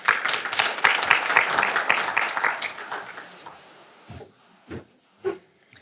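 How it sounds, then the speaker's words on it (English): An audience at a Relay for Life kickoff event claps in a dense round of applause that fades after about four seconds, leaving a few scattered, isolated claps near the end. "So let's give her a round of applause."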